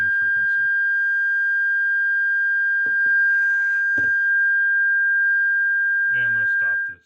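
A steady 1600 Hz test tone generated by DSP code holds loud and unbroken for about seven seconds, with brief bursts of someone talking at the start, middle and end.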